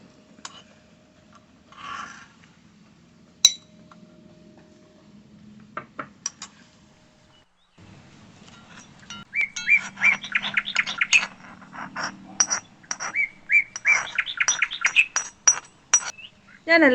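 Curry is moved from a pot into a serving dish in a home kitchen, with scattered clinks of metal and ladle scraping, growing busier toward the end, while someone speaks softly.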